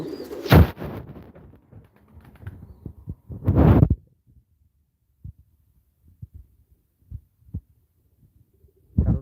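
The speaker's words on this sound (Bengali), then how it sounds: "কবুতর" Pigeons in a loft on a winter morning burst into two loud flurries of wing flapping, followed by softer scattered thumps and shuffles nearby.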